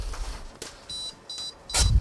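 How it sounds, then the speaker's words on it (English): A label printer that has run out of paper gives three short electronic beeps, spaced evenly and moderately loud, followed by a brief clatter at the end. "Beep, beep, beep."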